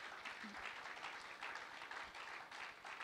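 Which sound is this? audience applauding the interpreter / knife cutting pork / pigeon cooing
audience applauding the interpreter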